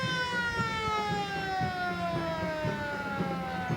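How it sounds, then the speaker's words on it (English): A fire engine siren wails during a 1993 Copperfest street parade, a steady falling tone sounding fairly distant and faint amid crowd noise. "Fire engine."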